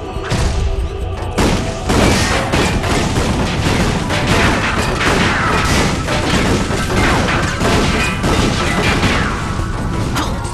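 Combustor weapon firing nonstop in Ratchet & Clank All 4 One, a loud, dense barrage of blasts and crashing impacts layered over game music and effects, with almost no pause.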